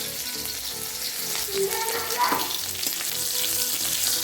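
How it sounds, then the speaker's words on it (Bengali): Green chillies and nigella seeds fry in hot oil with a continuous close sizzle, briefly flaring louder as they settle and with faint clinks of stirring under it. "এবার দিয়ে দিলাম কাঁচা লঙ্কাটা আর অল্প পরিমাণে দিলাম কালো জিরে"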